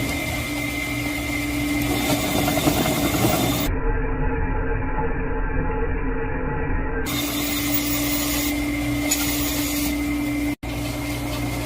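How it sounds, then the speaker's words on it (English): A drill whirs continuously at close range, boring holes in metal on a Dodge 340 engine, its steady mechanical grind changing pitch partway through, broken by one brief drop near the end. "Okay, so I'm ready to drill these holes."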